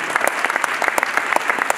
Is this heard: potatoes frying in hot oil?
no